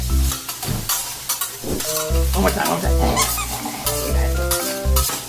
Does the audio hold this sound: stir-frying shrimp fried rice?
yes